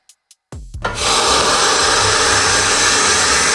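A Gemilai CRM3035 espresso machine dispenses hot water: two quick clicks, then a loud, steady rushing hiss that holds close and constant to the end.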